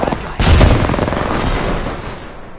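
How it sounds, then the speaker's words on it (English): Enemy gunfire in a video game: a sharp loud shot followed by a sustained rolling barrage of fire that slowly fades over a couple of seconds. "The enemies are shooting at me."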